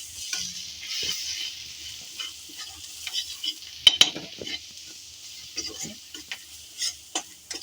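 Turmeric and chilli powder masala frying in oil makes a soft, close sizzle, broken by spoon or spatula scrapes and clinks against the pan, with several sharper knocks near the middle and no speech.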